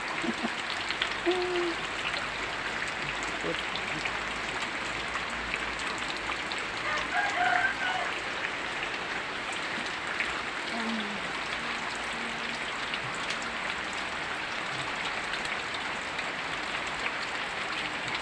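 Steady rain hisses evenly over rice fields, with a few faint bird calls and murmurs poking through the wash of noise.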